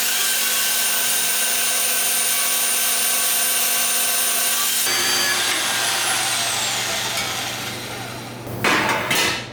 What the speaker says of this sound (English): I'm gonna try to cut this other side on the bandsaw